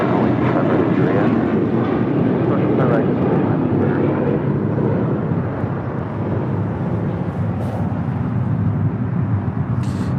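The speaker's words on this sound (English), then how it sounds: "That is United Express Flight 5462 coming in from Phoenix, Arizona, the E175LR." United Express Embraer E175LR jet engines roar loudly and continuously at LAX, a broad, sustained rumble that barely changes in level throughout.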